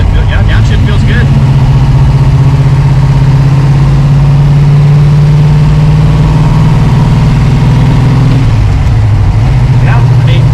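A car engine with a Tremec TKX manual transmission, during break-in, hums steadily loud and close after a downshift, its pitch holding then dipping near the end, with someone talking over it.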